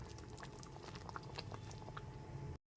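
Mung dal with papaya simmers in a pot, giving a faint, close, continuous bubbling and popping with no voices, ending in a brief cut to silence.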